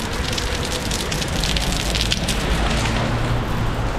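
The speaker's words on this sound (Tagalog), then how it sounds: "Umuulan ngayon." Rain falls in a steady, dense hiss with crackling drops on a surface, loud and continuous, with no talking over it.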